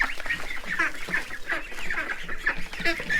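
Buff ducklings crowd around as food is set out, a steady jumble of small overlapping quacks and peeps at close range, busy and continuous with no pauses.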